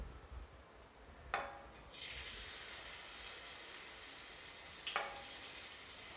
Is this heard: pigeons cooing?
no